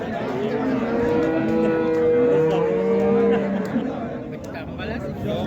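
Cattle at a livestock bazaar in Karshi give a long, loud moo lasting a couple of seconds, with market chatter and voices murmuring underneath.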